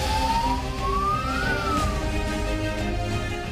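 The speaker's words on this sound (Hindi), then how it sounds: "एक एम्बुलेंस यहाँ से निकली है" An ambulance siren wails as it pulls away from the Uttarkashi tunnel rescue site, its tone sweeping up and then back down over a loud, steady rumble of engines and crowd noise.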